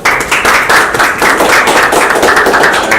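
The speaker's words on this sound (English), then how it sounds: "Applause for them" An audience applauds presenters, a dense burst of hand clapping that pulses in uneven waves for a few seconds, close and loud, with no voices.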